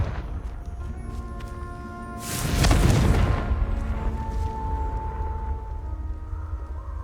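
A Confringo blast spell going off in Hogwarts Legacy: one loud, broad explosive burst near the middle, fading over about a second amid quieter game sounds and a soft tonal background.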